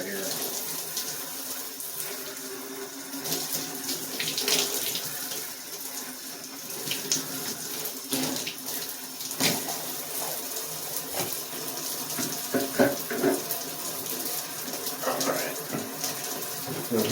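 Running tap water splashing over a plastic Apple IIe Unidisk part being rinsed in a sink, a steady close wash with shifting splashes and no talk.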